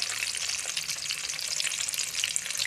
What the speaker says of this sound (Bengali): এখন ভেজে নেব অল্প এখানে অলু দিয়ে দেবো